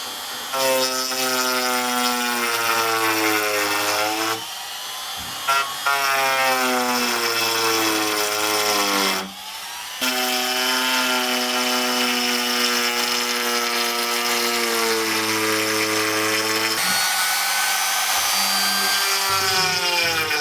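A Pro Craft handheld wood router runs at its minimum speed, giving a loud sustained whine with harmonic tones that dip and recover in several short breaks.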